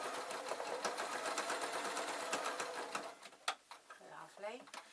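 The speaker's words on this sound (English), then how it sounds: "Basically I'm just going to sew up this seam." A sewing machine sews up the seam of a stuffed fabric doll in a fast, rattling stream of stitches that slows and stops partway through, followed by a few clicks and a voice speaking.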